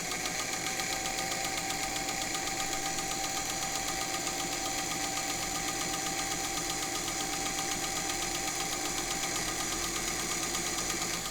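A Singer 201K sewing machine runs steadily while sewing a very short stitch on slow-feeding fabric, giving a continuous, even motor hum with fine rapid mechanical ticking and no voices.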